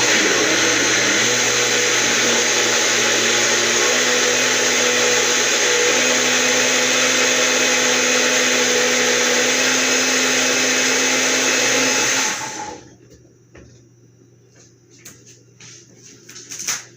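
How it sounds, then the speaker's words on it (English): A blender pureeing cauliflower and onions, a loud, steady whirring roar for about twelve seconds that then cuts off, leaving faint clatter. "Inside the blender here, we have cauliflower and onions."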